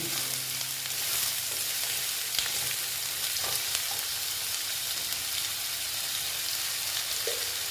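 Potatoes fry in a pan with a steady, dense sizzle and crackle, punctuated by a few soft clicks and scrapes.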